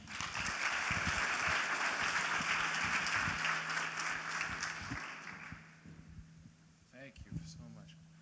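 Conference audience applause in a meeting room at an investment conference, a broad steady clapping lasting several seconds that fades out around the sixth second, leaving a low hum and a little brief speech.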